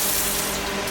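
Water gushing steadily from a boat's sink faucet, close and loud, a continuous broadband rush with no voices over it.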